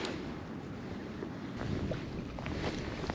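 Steady wind buffets the microphone at a fishing lake, a continuous broadband rush with slight gusts and no talking.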